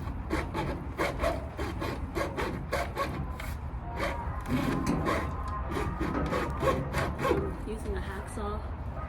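A hacksaw cuts through long stock for a homemade chicken feeder in quick, even back-and-forth strokes, close and scratchy, repeating steadily over a low background hum.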